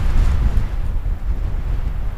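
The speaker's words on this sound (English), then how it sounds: "The wind is coming mostly from back here and from over there." Strong winter storm wind buffets an outdoor sleeping spot under a Cordura nylon poncho, a loud, continuous low roar of gusts battering the microphone with no break.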